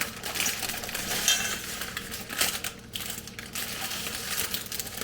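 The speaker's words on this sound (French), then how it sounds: "Alors, je mélange le tout." A salad with vinaigrette is tossed and mixed in a bowl, making steady, close crunching and rustling with occasional clinks. The clatter keeps an even rhythm throughout.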